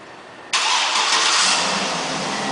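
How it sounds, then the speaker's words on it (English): After a brief quiet moment, a 2008 Cadillac Escalade engine suddenly starts up by remote start and settles into a steady, close idle. "One of the many options in this vehicle is a remote start, and I'll demonstrate that now."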